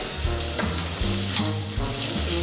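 Lemongrass stalks and ginger drop into a hot pan with shallots, sizzling steadily and close up over a low hum, with faint stirring and no speech in this short burst.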